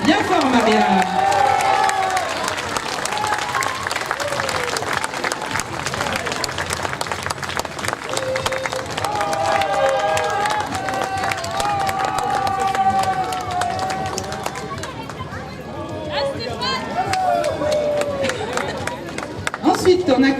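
An outdoor crowd at a Venetian carnival costume parade in Chanaz applauds and cheers a costumed participant, with steady clapping running beneath an announcer's voice and bright music or whistle-like tones for about twenty seconds.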